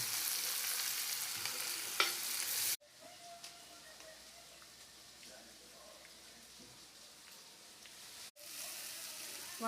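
Onion, ginger, garlic and curry leaves fry in a pan for a Kerala-style boti fry, a soft steady sizzle with faint stirring scrapes, sandwiched between two brief louder bursts of hiss at the start and end.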